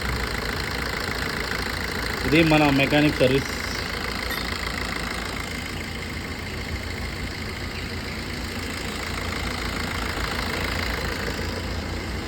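A serviced car's engine idles at a service point, a steady, close rumble running throughout, while someone speaks briefly over it early on.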